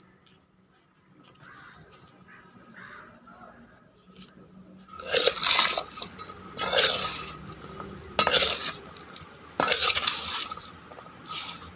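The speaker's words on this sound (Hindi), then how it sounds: "तो इन सारी चीज़ों को अच्छे तरीके से मिक्स कर दें।" Vegetable pickle being stirred by hand with ground red chilli, turmeric, salt, fennel, nigella and fenugreek, heard as a quiet start followed by louder bursts of mixing and scraping from about five seconds, with a few sharp crunchy strokes.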